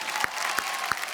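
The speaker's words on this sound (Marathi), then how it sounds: "जोरदार टाळ्या होऊन जाऊ द्या बिग बॉसच्या घरात जात असलेल्या या" Studio audience applause at a Marathi reality show's grand premiere, a short, steady wash of many clapping hands with a few sharper claps standing out.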